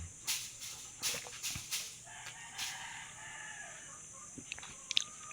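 A rooster crows several times over scattered clucking from chickens, fairly close and loud, with no voices, in the Philippines.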